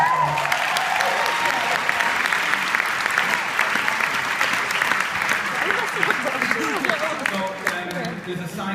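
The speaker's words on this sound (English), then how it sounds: "Give them a round of applause." An audience at a Manchester business talk bursts into loud, dense applause that holds steady for several seconds, with a voice beginning to speak over it as the clapping tapers.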